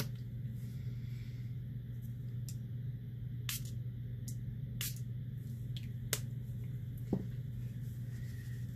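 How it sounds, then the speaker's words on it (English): Several quick, sharp puffs from a small mini mister spray bottle misting water onto a watercolor painting, spaced irregularly and fairly faint over a steady low background hum. "and spraying with the minimister so we could get wet and wet."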